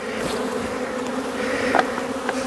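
Honeybees shaken off a nucleus colony frame in September buzz in a dense, continuous swarm hum, close and steady, with a few individual bees passing nearer.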